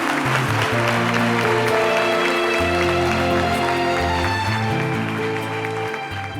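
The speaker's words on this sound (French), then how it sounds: "Applaudissez pour cela, s'il vous plaît." Audience applause in a TV studio set during an award presentation, loud and sustained under bright music, fading slightly toward the end.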